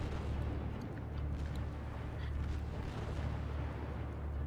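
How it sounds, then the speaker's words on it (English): Naval guns firing in Task Force Admiral at the Battle of the Coral Sea near the carrier Lexington, a dense, distant rumble of rolling booms and pops layered under a low continuous din. "Oh, we got guns going off."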